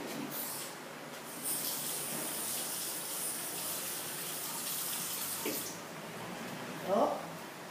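Tap water runs steadily into a sink during handwashing in a home kitchen, a soft continuous hiss with a brief splash near the end, beneath quiet voices.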